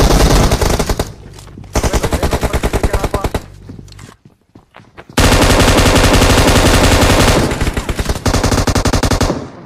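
Rapid automatic gunfire from the battle-royale game BGMI rattles loud and close in dense bursts, breaking off briefly near the middle before a sustained barrage resumes to the end.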